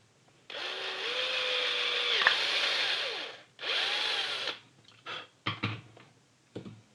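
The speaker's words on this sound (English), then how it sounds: "So which means I need to drill there." A power drill bores a hole for the supply cable in a basic DC power supply build, whining steadily for about three seconds, pausing, running again for a second, then several short bursts and clatters up close.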